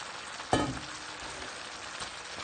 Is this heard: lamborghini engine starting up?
no